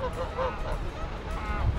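A goose honking nearby in Buenos Aires, Argentina, giving a few nasal calls in quick succession over faint background noise.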